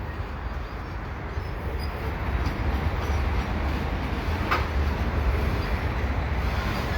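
A slow CPKC freight train rolls past at Lachine, a steady broad rumble of railcars and wheels holding through the whole stretch with a brief squeal midway, no talk over it.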